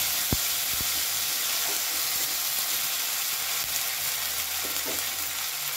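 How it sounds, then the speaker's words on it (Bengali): Asafoetida and ginger-fennel paste sizzling in a pan for urad dal, a loud continuous hiss and crackle with a couple of sharp utensil knocks early on and soft stirring scrapes, no talk. "দিয়ে দিলাম কিছুটা হিং, দিয়ে দিচ্ছি আদা মৌরি বাটা, একটুখানি নেড়ে নেব"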